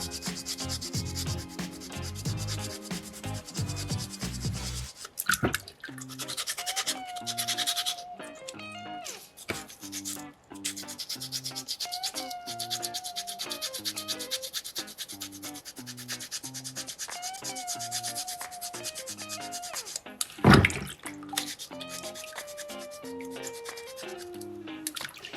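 Sandpaper rubs steadily across a soapstone sea turtle carving in repeated back-and-forth strokes, close and fairly quiet, with a brief pause and a sharp knock partway through.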